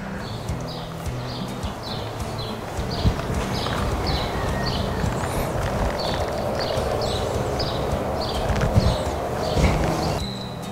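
A mature adult horse from a military breeding farm walks in a steady, even clip-clop of hooves, close and continuous over faint outdoor ambience.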